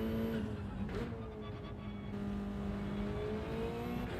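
A PF500 series race car's engine revs and accelerates in a sustained, rising drone with a slightly wheezy tone, heard from inside or close by.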